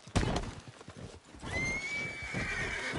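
A horse in Red Dead Redemption 2 whinnies loudly after a few hoof clops, the neigh drawn out and high, ringing over a busy background.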